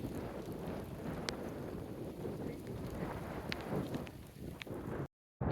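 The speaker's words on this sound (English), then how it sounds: "it's windy and loud" Strong wind buffets a microphone outdoors, producing a constant loud low rumble and roar with scattered clicks, cutting off abruptly near the end.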